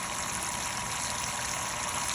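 Water runs steadily onto the grain bed while sparging a homebrew beer mash, a dense continuous trickling rush with no voices.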